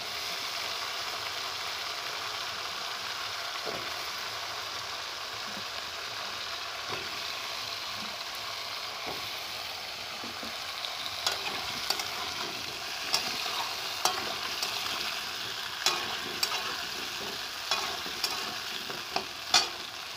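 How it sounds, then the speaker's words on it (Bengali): Potatoes frying with onions in a pan, a steady broad sizzle throughout, joined midway by repeated scraping knocks of a spatula stirring, growing sharper and more frequent toward the end; no talking. "আলুগুলো দেওয়ার পর আলুগুলো ভালো করে ভেজে নেব"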